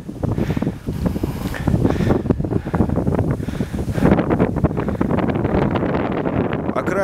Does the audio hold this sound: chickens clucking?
no